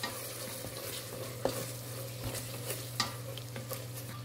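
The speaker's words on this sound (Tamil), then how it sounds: "இதை நல்லா வதக்கி விட்டுக்கலாம்." Tomato biryani masala sautéing in a pan, a low continuous sizzle with occasional scraping stirs and clinks of a spoon, close and fairly quiet.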